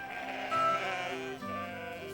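Sheep in a flock bleat in drawn-out, wavering calls, one nearby cry rising over another that follows, heard alone at moderate loudness.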